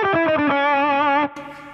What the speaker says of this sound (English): So like a kind of very clean pedal distortion